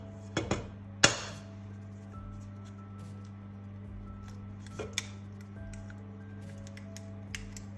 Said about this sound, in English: And so I'm going to break the eggs.